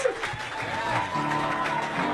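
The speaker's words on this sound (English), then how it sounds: "Listen to that light applause" Light, scattered applause rises from the audience at the Comedy Store as a comedian is welcomed, with someone talking over the thin clapping.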